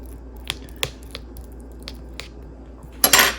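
Food being mixed with real garlic in a dish, a few sparse soft clicks and taps of a utensil followed by a louder wet squishing burst at the end, close and quiet otherwise.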